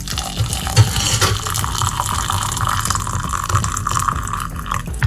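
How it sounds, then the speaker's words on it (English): Hot water pours steadily into a cup holding ginger, sugar and coconut oil, a continuous close splashing fill with no talking. "Add my hot water."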